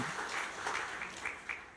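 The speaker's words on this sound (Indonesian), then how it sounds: "Mari beri tepuk tangan yang meriah bagi Tuhan kita" Church congregation claps during a Sunday morning service, a short burst of applause that swells and then begins to taper off.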